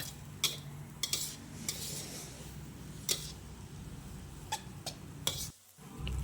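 Glass noodles with cabbage being stir-fried in a pan, a utensil clinking and scraping against the metal several times at an uneven pace over a soft, steady cooking hiss, fairly quiet.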